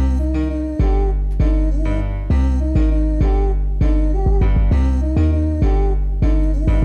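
A second variant of a bass line from a trap beat produced in FL Studio 20, playing alone as loud sustained low notes in a steady rhythmic pattern with a few quick repeated hits, no talking.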